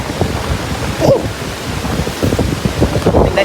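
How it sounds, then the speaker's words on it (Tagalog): Strong wind at a Boracay beach during a super typhoon, buffeting the microphone with loud rumbling gusts over a roaring surf-like wash. "Tingnan nyo, ang hangin sobra."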